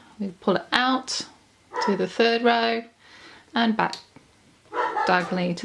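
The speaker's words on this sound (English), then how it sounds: "I'm sorry if you can hear my dog barking" A pet dog upset at being shut out of the room barks and whines from behind a closed door, in repeated clusters of yips under a person talking through a bracelet-making tutorial.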